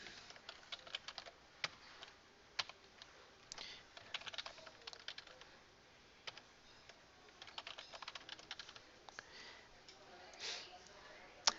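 A name and password are typed on a computer keyboard in irregular bursts of light, quick key clicks with short pauses between them, fairly quiet and with no talking.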